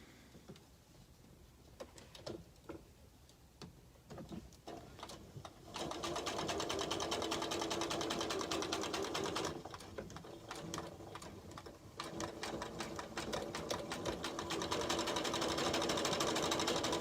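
A sewing machine stitches fabric for a Liberty table runner, whirring in a fast, even rattle that starts softly, runs loud for several seconds, pauses briefly and then resumes.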